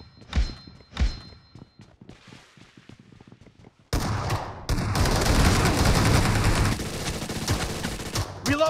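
Gunfire in a BGMI gun-game match inside a hangar, starting with a few sharp shots and thuds, then a loud sustained burst of automatic fire with heavy booms close by.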